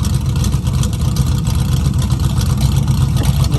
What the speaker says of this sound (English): These mufflers are rusted out, got some big old holes in them, so just adds to how loud it is.